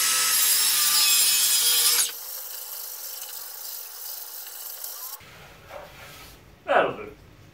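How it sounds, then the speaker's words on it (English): An angle grinder shrieks loudly through garage barrier cladding for about two seconds, then cuts off, leaving quieter scraping and brief clunks afterward. "angle grinder again."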